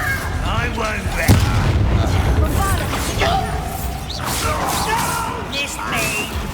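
A Confringo fire spell blasts in Hogwarts Legacy during a fight, landing as a sharp explosive burst early on amid dense, continuous battle effects and music-like clutter, with voices in the mix.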